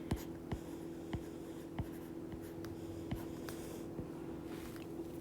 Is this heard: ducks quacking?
no